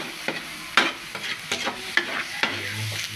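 Pork for Bicol express is stirred and fried in a pan, with a spoon scraping and knocking in irregular strokes over a soft, steady sizzle and no talking.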